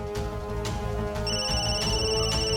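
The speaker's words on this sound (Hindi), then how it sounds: "ए फोन तेरा फोन बजा, फोन।" A phone ringtone plays continuously with a repeating electronic melody over a steady bed of background music, loud and close throughout.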